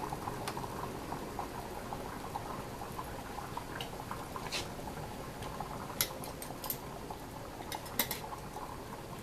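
Rice simmering in a covered pot on a stovetop, giving a steady low bubbling patter with a few brief clicks and light metallic taps scattered through, no voices.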